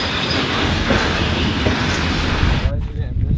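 Loaded iron ore train wagons roll on rails in Mauritania with a continuous loud rumble and rhythmic clatter, fading near the end as distant voices talk.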